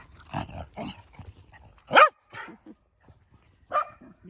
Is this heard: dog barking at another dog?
yes